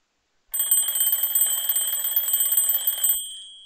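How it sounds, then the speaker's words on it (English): An alarm clock rings in a loud, continuous, rapid metallic trill for about two and a half seconds, then stops abruptly, heard alone. "Our next sound is alarm clock."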